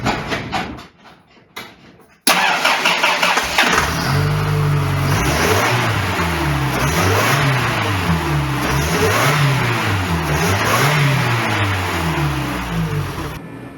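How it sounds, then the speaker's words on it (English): A supercharged Toyota 22RE four-cylinder in a 4Runner cranks briefly, catches and then revs repeatedly in rising and falling sweeps, loud and close inside a garage. "I'm gonna just try and start it and rev it."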